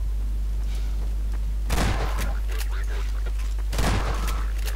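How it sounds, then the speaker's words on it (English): A shotgun fires twice in the Half-Life 2 video game, two loud bursts about two seconds apart over a steady low hum. "I think I want to use a shotgun for this actually."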